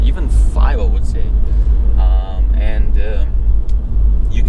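A 2022 Honda Civic Sport 2.0 hums with low engine and road rumble while driving, running steadily beneath someone talking throughout.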